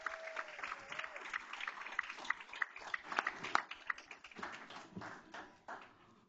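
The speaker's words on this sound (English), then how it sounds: "can we give him one more round of applause?" A modest crowd at a board meeting claps for a veteran being honored, a round of scattered, uneven hand claps, fairly quiet and thinning toward the end, with a faint voice briefly underneath.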